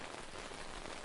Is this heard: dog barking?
no